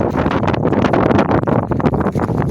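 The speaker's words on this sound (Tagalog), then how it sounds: "mahangin." Strong sea wind on a deep-sea fishing trip buffets the microphone in a steady, rough roar, with gusty surges throughout and no voices.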